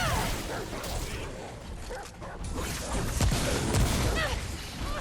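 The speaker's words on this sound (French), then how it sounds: "Ah, purée! un chien." A dog in the video game Remnant: From the Ashes attacks with barks and yips amid a dense mix of combat effects, thuds and other game noise, with someone talking over parts of it.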